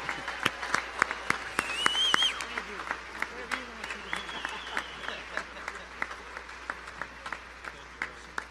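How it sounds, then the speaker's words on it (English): Applause from an audience at a legislative session gathering, a thin scattered clapping that swells briefly then continues as sparse, distinct claps at moderate distance. "But please give them a big round of applause."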